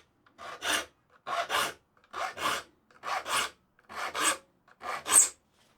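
A steel file rasps across the teeth of a saw clamped in a wooden twist-lock saw vice, six steady, evenly spaced strokes, close and clear with short pauses between them.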